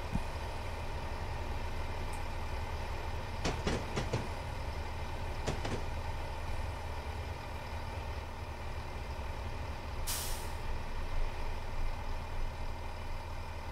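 Class 165 diesel unit in Train Sim 2019 on the Chiltern Main Line from Birmingham to London, braking with a steady engine drone and rail rumble, a few short clanks and a brief hiss of air near the end.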